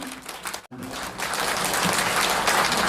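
Audience applause welcomes a former Daejeon mayor to the stage at a Korean lawmaker's book launch event, a dense steady crowd clapping after a brief gap that swells and holds loud to the end.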